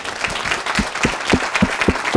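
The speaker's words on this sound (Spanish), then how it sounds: "te damos las gracias y un aplauso" Audience at a Spanish business talk on internal HR marketing applauding a guest speaker, a moderate round of clapping with sharper individual claps standing out, a few voice-like sounds mixed in.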